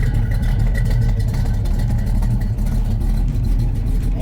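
Engine of a 1972 Dodge Challenger idling with a choppy lope, a loud, close, rumbling burble with an uneven rhythmic pulse held steady throughout.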